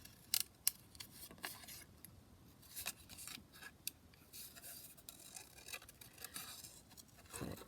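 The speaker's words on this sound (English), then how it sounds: "just kind of cut the butterfly out" Scissors cut a small paper butterfly out of a craft page, with soft, faint, close snips and light paper rustles scattered irregularly through a quiet room.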